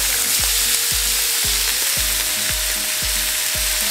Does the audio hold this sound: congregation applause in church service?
no